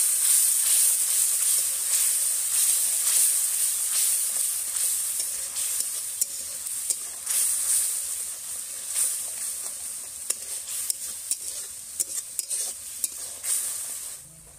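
Ground masala paste sizzles steadily in hot oil while being stirred for a pond kau fish curry, a continuous close, bright frying hiss with scraping stir strokes throughout.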